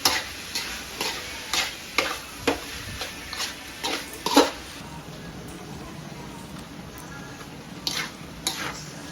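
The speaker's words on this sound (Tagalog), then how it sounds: "halo-haluin natin ulit ito para hindi manikip" Carbonara noodles are stirred in a sizzling pan, with rhythmic scraping and clinking strokes over a steady frying hiss, close up.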